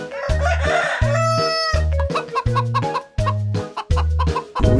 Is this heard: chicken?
yes